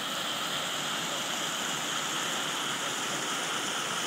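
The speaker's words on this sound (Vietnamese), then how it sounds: "Đây là hình ảnh dòng nước lũ tối hôm qua mưa cả đêm." Constant broadband roar of rushing floodwater after a night of heavy rain near an isolated mountain village, steady and loud with no voices.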